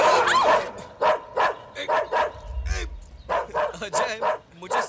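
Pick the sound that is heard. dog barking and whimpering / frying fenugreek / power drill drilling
dog barking and whimpering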